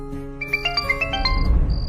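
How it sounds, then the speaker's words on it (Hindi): A mobile phone ringtone plays a short melodic run of bright chiming notes over a low, steady musical backing, close and fairly loud, with no talk. "तभी अचानक ही आहान का मोबाइल बज उठा।"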